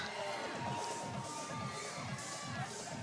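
Spectators cheering for an athlete at a CrossFit Games age-group competition, a steady roar of crowd noise with scattered shouts and bursts of applause, fairly distant and continuous.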